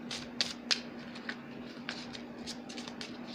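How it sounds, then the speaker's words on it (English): Tarot cards are shuffled by hand in a quiet room, a series of soft papery riffles and sharp flicks at uneven intervals over a low steady hum. "Let's just keep shuffling."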